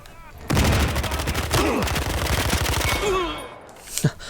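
Rapid bursts of automatic gunfire in a Battlefield Hardline multiplayer match, loud and close, with several volleys over a few seconds and a brief sharp shot near the end.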